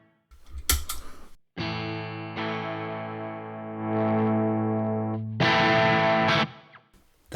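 Electric guitar with single-coil pickups played through a Havok FO-2 FET overdrive at low gain, sustained chords and notes ringing with mild grit, loud and alone, separated by brief gaps.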